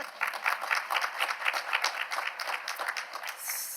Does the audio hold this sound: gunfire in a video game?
no